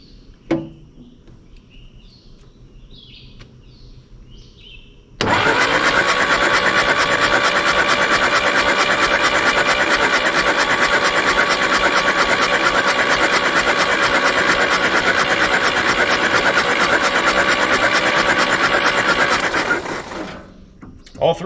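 A 1964 Jeep CJ-5 engine that sat in a barn for 30 years cranks over on the starter without firing, a loud, steady whirring churn that holds for about fifteen seconds and then stops.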